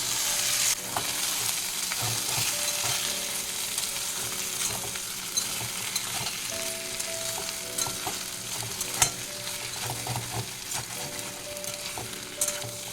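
Potatoes and amaranth stems fry in oil in a pan, giving a loud, continuous sizzle. Scraping stirring strokes and small clatters break through it throughout.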